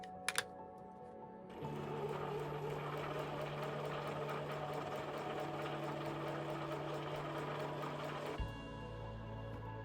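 A sewing machine stitches a fabric border onto a baby quilt, starting after a short pause and then running in one steady, fast mechanical whir at a fairly quiet level before stopping abruptly.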